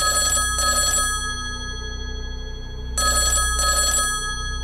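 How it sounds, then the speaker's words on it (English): A telephone rings loudly and close in two separate double-burst rings with a quiet gap between them, each made of rapid electronic trills. No voices are heard. "the phone rings again."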